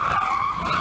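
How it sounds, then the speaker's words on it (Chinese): A car's tires shriek in a short, sharp skid under sudden emergency braking at a road intersection just before a crash. "瞬间传出急促的刹车声，伴随撞击巨响"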